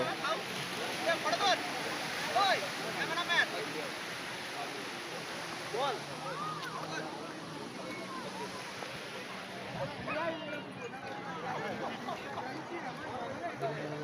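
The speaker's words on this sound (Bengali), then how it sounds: "এই যে ঢেউ আসছে দেখতে পাচ্ছ।" Sea waves washing onto Digha beach, a continuous rushing surf heard at a moderate distance beneath frequent talking and crowd voices.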